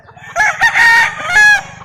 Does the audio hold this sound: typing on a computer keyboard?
no